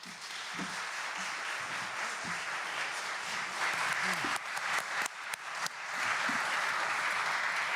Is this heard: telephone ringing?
no